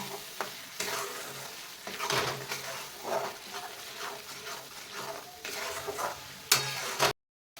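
Masala paste frying in hot oil in a pan, a continuous soft sizzle broken by repeated scraping stirs from a spoon, close up, ending in an abrupt cut to silence.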